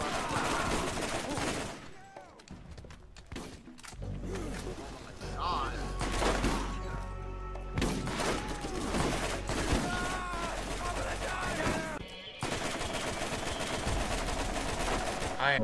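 Bursts of rapid gunfire ring out in Borderlands 1, with repeated volleys of shots layered over game sounds and a talking voice, briefly dropping out in the middle.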